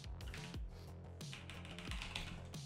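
Quick, light keystrokes on a computer keyboard while entering a search into the Windows search bar, a short run of soft close taps with brief pauses.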